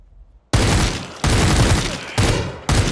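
Bursts of loud, sustained gunfire crack in three or four rapid volleys, each abruptly cut off, from automatic weapons in the shooter game Super People.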